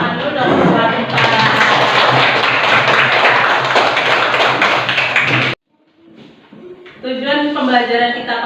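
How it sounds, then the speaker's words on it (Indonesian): Schoolchildren in an Indonesian classroom clap together for their teacher, loud rapid dense clapping for about five seconds, then a brief pause and a voice speaking afterward. "Nah, tepuk tangan dulu dong buat Pak."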